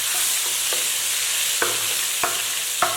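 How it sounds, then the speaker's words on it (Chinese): Garlic chili sauce stir-fried in hot oil in a wok, making a steady hiss with a few soft scraping stirs of the spatula close by. "锅内倒油，放入1小勺的蒜蓉辣酱，"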